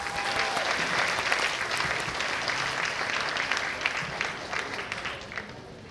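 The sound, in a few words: audience applause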